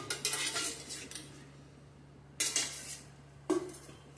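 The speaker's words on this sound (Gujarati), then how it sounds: "આપણે 1 ચમચી આની અંદર મોણ નાખવાનું છે" A metal spoon clinks against a steel bowl or pan while oil shortening is added to chakri dough, a few sharp taps and scrapes near and quiet, with pauses between them and no talk.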